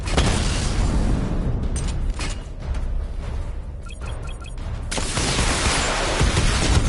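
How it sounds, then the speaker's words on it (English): Video game missile barrage firing: a dense, sustained volley of booming launches and whooshing blasts that runs loud the whole way through, easing slightly in the middle before swelling again. "Missile barrage level 2 ready."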